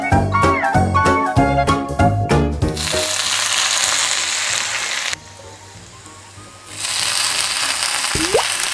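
Clattering metallic clicks and clanks at first, then a loud, steady crackling sizzle of chicken frying in oil that drops briefly and returns.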